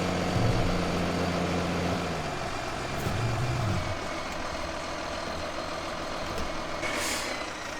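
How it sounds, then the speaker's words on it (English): A tractor engine idles in Farming Simulator 2015, a steady mechanical drone close by. It rumbles on throughout, and a faint high tone briefly rises near the end. "And we'll park this tractor up."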